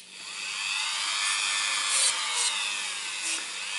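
A high-speed polishing tool whines steadily against a Toyota Corolla brake caliper worked with polishing cream, a thin, bright continuous buzz with slight pitch wavers and no voices.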